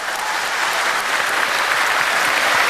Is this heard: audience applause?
yes